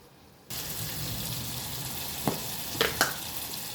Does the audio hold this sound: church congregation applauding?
no